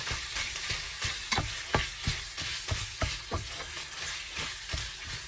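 Shredded cabbage sizzles steadily in a hot pan while a utensil stirs it in repeated scraping strokes about every half second, close and clear with no voices.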